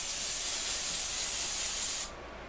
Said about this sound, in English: Now it's time to spray this and let it dry.